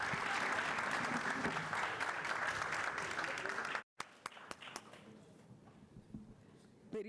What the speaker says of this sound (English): let us give the panelists for panel discussion 3 another round of applause